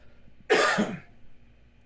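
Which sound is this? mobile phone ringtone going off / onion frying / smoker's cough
smoker's cough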